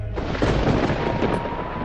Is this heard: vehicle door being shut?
no